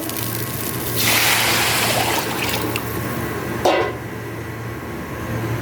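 Water is poured into rice fried in mustard oil in a pot, making a rushing splash over a steady sizzle, followed by a sharp clank and continued bubbling.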